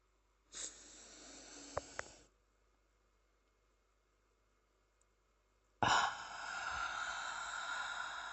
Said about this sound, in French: Après ces grandes respirations